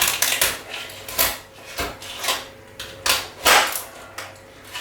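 A worn kitchen knife is plunged into a whole lobster, giving a quiet run of sharp, crunchy clicks and cracks against the shell, spaced irregularly, with no talking.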